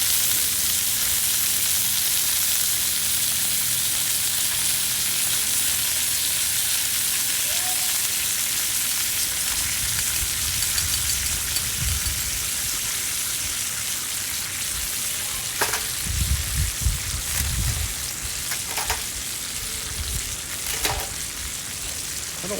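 Steady, dense sizzle of a T-bone steak frying in a pan with butter, a loud continuous hiss with brief sharper crackles and occasional soft clicks of the pan.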